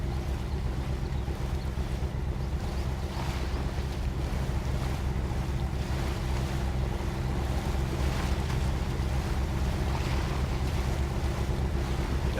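In the Mudrunner game, a truck crawls slowly through deep water with a constant low engine drone, while water sloshes and churns around it as a dense, unbroken wash.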